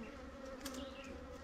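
Agitated honeybees swarm and buzz around a GoPro camera near their hive, a dense, steady droning hum with close passes rising and falling, no voices.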